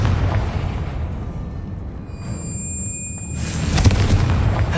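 Confringo blasting spell explosions from Hogwarts Legacy, several deep booming blasts with a rumbling tail, loud and close, the strongest burst landing near the end, no voices.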